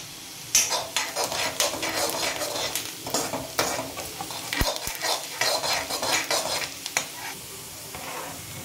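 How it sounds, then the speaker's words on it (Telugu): Chopped onions frying with a pinch of salt in a kadai for egg fried rice, loud close sizzling with frequent metal spoon scrapes and clanks as they are stirred. "కట్ చేసుకున్న ఆనియన్స్ని బాండీలోకి వేసేయాలి. ఆ తర్వాత ఇవి బాగా వేగిన తర్వాత ఉల్లిపాయలు తొందరగా వేగాలంటే కొద్దిగా ఉప్పు వేసుకోవాలి."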